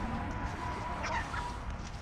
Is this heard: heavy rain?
no